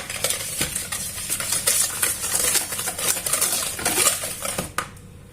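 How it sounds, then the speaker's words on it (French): A marble cake batter is whisked in a bowl, producing a steady run of quick scraping and tapping strokes, close and fairly loud, alone with no talk. "Et on va fouetter tout ça"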